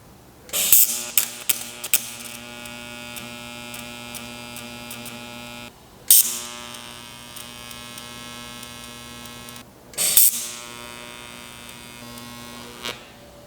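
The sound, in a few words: tack welding Porsche 924 muffler bracket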